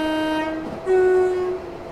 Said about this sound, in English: The horn. It's fantastic.